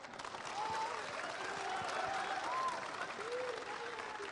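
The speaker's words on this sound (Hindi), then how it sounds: "तालियों के साथ इनका स्वागत" Crowd in Chhapra, Bihar, clapping to welcome guests at an election event, sustained applause at moderate distance with a few voices and whistle-like calls mixed in.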